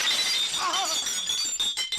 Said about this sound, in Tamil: வாசப்படி நினைச்சு கண்ணாடி நொறுக்கி தள்ளிட்டாங்களே